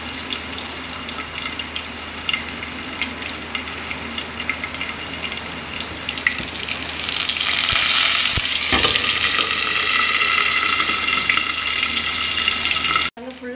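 Seasoning splutters and crackles in hot oil for tamarind rice, a busy frying hiss that swells noticeably louder partway through and cuts off abruptly near the end.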